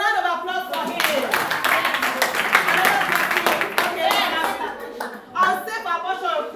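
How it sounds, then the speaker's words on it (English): Round of applause at a school outreach session on teen pregnancy and health, dense hand clapping from a group sustained for several seconds, with voices talking and calling out over it. "A round of applause for him."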